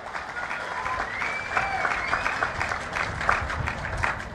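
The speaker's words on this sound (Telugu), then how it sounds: "వాళ్ళందరినీ గట్టిగా చప్పట్లు కొట్టి అభినందించండి" A large crowd at a Swachh Andhra Pradesh event in Tanuku claps steadily for volunteers, producing dense, sustained applause at moderate distance throughout.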